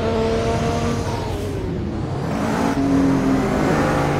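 A Nissan R32 engine in the racing game Midnight Racing Tokyo revs hard and steadily, a loud close whirring drone that climbs and shifts pitch during a street chase.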